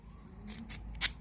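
Scissors blade being sharpened by pressing its edge against the edge of a lighter, heard as a few brief scraping strokes, with one short, louder metallic scrape near the end.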